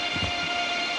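A Deutsche Bahn ICE high-speed train on a morning trip runs with a steady, loud mechanical hum and broad rushing noise over about a second, with no voices.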